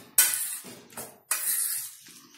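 A spoon stirring rava uttapam batter mixed with vegetables in a bowl, three wet scraping sweeps in a row, close and clear with no talking.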